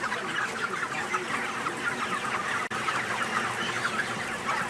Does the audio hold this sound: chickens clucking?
yes